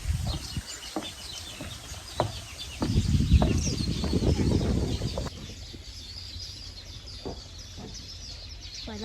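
Many birds chatter and call around a cluster of nests at the Munyonyo martyrs' shrine in Uganda, a busy layered chorus of chirps, with a few brief knocks and a louder stretch of low rumble partway through.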